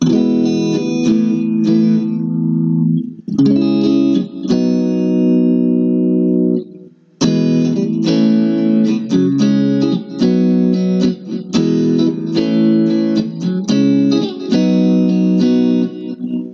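A Harley Benton T-style electric guitar in the both-pickups position plays strummed chords with a clean, slightly driven tone, ringing loudly with a short pause partway through.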